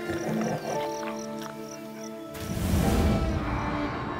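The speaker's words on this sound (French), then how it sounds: "C'est le combat entre tigres le plus bouleversant que j'ai jamais vu." Tigers clash in the wild, a mother and her son fighting over food, with growls and snarls, then a loud roaring, thrashing burst erupts near the end over a rough, noisy background.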